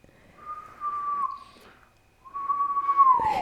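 Two long, steady whistled notes from a person, each sliding slightly in pitch, separated by a short pause, with a faint rustle at the end.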